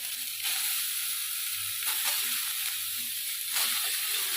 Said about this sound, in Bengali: আলুটা যে ভেজেছিলাম সেই কড়ার মধ্যে আমি সয়াবিনগুলো ভেজে নেব